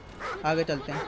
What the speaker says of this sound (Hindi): कुत्ता का भौंक रहा भाई, कहाँ कुत्ता भाई